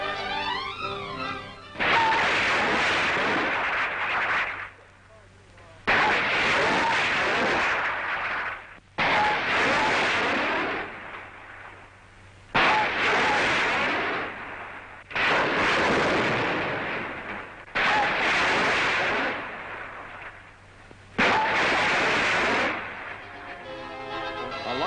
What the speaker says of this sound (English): Shooting two 5-inch rockets in salvo, the apparatus can be accurately aimed and reloaded without delay from below.